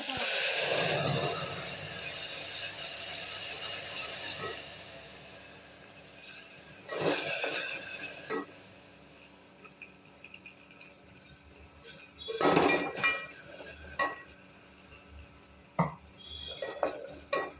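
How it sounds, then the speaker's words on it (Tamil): Spiced masala paste sautéing in a pan for a Krishna Jayanthi rice offering, a steady soft sizzle broken by several louder scraping bursts of the stirring spoon against the pan. "மசாலா மசாலா கொஞ்சம் வதங்கட்டும்"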